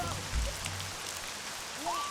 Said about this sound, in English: Rain time. Bless the rains.